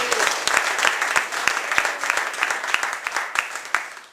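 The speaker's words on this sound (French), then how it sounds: "on peut l'applaudir très fort, s'il vous plaît" A small magic-club audience in Menton claps for a host, with individual hand claps clearly audible in a fairly even, brisk rhythm, close and lively for about four seconds.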